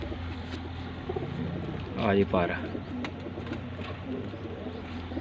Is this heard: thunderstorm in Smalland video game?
no